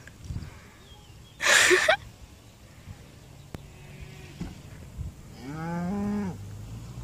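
A cow on a beach in Corsica gives a loud, drawn-out moo near the end, preceded by a sharp snort or sneeze-like burst and quieter shuffling sounds nearby.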